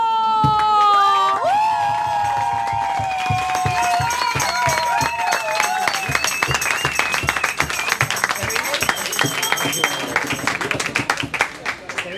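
A crowd applauds and cheers a street singer after a chacarera performance in Argentina, with claps and shouts building into a dense, steady clatter as sung tones fade out early on.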